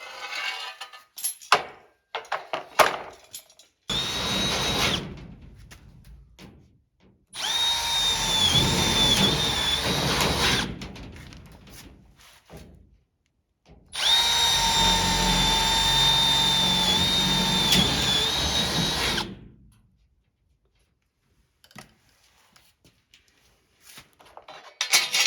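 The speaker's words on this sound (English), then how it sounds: "now we got all them drilled" A power drill bores holes for rocker panels on a dirt track UMP modified race car, with two long steady whining runs of high-pitched drilling between scattered clinks and handling noises, loud and close.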